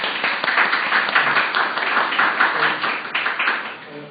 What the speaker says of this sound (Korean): 자, 박수로 좀 환영해 주시죠